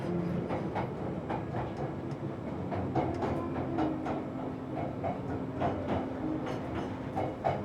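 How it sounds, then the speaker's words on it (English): Steady rumble and rhythmic clatter of a moving train heard from inside, a continuous low drone with faint repeated clicks and no talking. "I'm on the train when you next text me."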